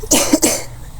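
A single wet cough with phlegm from a person who has been suffering coughing fits and fever, heard close and alone: two or three harsh rasping bursts within a second, then quiet.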